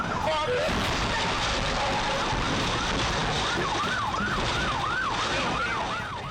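An ambulance siren wails, sweeping up and down repeatedly over loud, dense traffic noise, sounding fairly close with no break in the rumble.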